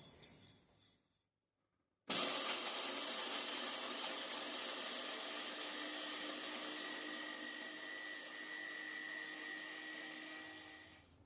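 A mixer grinder's small chutney jar whirs loudly and steadily while grinding whole spices into fine powder for Maharashtrian goda masala, starting abruptly after a brief pause and holding a dense, continuous roar to the end.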